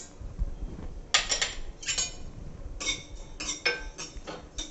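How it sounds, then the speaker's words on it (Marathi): Sesame seeds dry roasting in a pan for a Maharashtrian bhogichi bhaji masala crackle in irregular clusters of sharp, close ticks and clinks, with quieter stretches between the bursts. "तिळाचा चटचट असा आवाज आला की आपण तीळ हे काढून घेणार आहोत"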